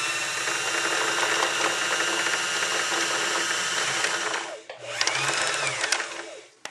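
A sewing machine motor runs steadily while winding thread onto a bobbin, a continuous loud whir that dips briefly near the end before resuming, with no talking.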